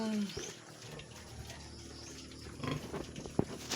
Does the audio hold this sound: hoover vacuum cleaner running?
no